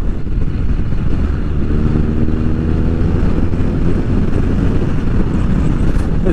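Motorcycle riding at highway speed while merging, with a steady engine drone and heavy wind rush filling the whole stretch, loud and continuous without a break.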